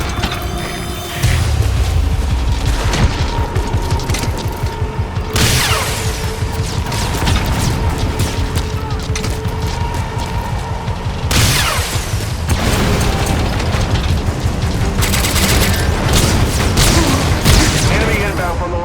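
Loud explosions and gunfire in the game Metal Gear Solid V: The Phantom Pain, with repeated heavy booms over a dense rattling mechanical din that continues throughout.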